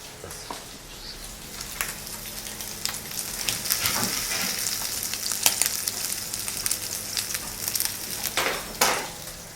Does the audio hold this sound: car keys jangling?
no